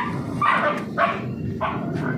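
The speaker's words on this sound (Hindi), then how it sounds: "कुत्ते पता नहीं क्यों डर गए हैं" Young puppies bark nervously on a farm while goats are held for hoof trimming, three or four short sharp yips and barks, fairly close, over a steady low background murmur.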